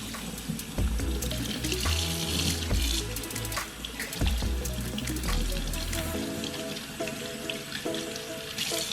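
Tap water runs steadily while shampoo and suds are rinsed out of halo hair extensions at a sink, a continuous splashing wash with shifting flow and no talk.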